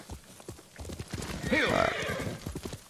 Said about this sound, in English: I'm going to get my horse and make it easy on us